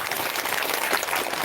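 Dense, steady applause from an audience at a religious gathering, a short burst of many hands clapping together at close range.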